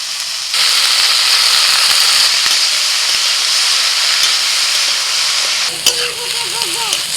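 Chopped tomato and spinach with spices fry in a hot pan, giving a loud, steady sizzle and hiss close by, with a few stirring clatters and a brief voice near the end.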